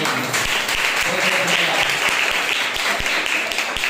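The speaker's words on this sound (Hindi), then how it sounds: "आप लोगों का बहुत बहुत जोरदार एक ताली बजाइए।" Congregation applauding at a Sunday church service, a steady loud patter of many hands clapping throughout, with a few sharper individual claps standing out near the listener and no voices.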